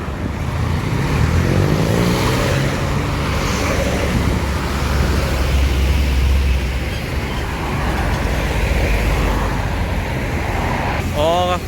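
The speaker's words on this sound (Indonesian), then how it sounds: "Lalu lintas terpantau ramai." Busy roadway traffic rolls past alongside an ALS bus as a continuous rushing roar of engines and tires, with a low rumble underneath, a brief whine near the end and voices faintly in the mix.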